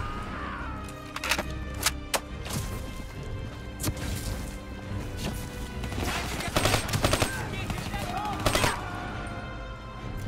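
Gunfire in Call of Duty Black Ops 3, with irregular sharp shots and short bursts, some loud and close, over a busy background of crashes and battle noise.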